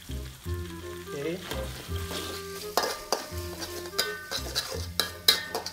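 Nasi goreng pattaya frying in a pan while being stirred, steady close sizzle broken by repeated scraping strokes of the spatula and light clinks of metal against the pan.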